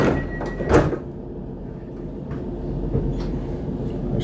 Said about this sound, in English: the door is getting closed.